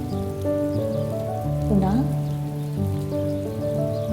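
A rain shower falls steadily with an even hiss of drops, heard beneath sustained background music and a spoken voice reciting an Assamese poem.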